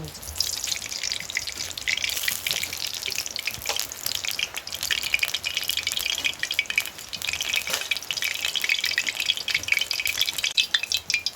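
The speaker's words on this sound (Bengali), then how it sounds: "বাদামটাই আমি ভেজে নেব। চীনা বাদাম আপনারা এরকম দিয়ে ভেজে নেবেন।" Peanuts frying in oil in a kadai, a continuous crackling sizzle with bright spattering pops and occasional stirring scrapes, close and steady throughout.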